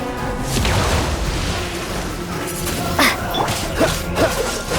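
Dog barking in Genshin Impact, a few sharp yips and barks mixed with game effects, impacts and background music, moderately loud and close.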